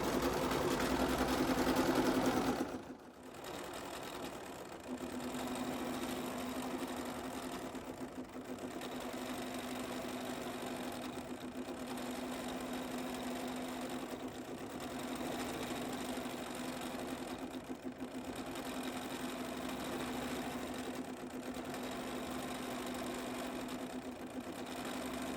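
A BERNINA sewing machine quilts a pieced quilt held in a magnetic hoop, its steady mechanical hum running continuously for about twenty-five seconds after a brief louder burst at the start, with no talking.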